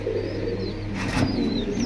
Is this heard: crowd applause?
no